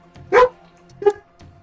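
A pet dog barks in the room during a Door Kickers 2 game session, two loud, sharp barks about half a second apart and fairly close, with a fainter yip trailing after.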